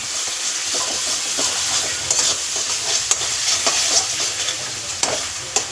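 Taro and prawns fry in bubbling oil, stirred steadily, a continuous close sizzle broken by irregular scraping clicks of the spoon against the pan.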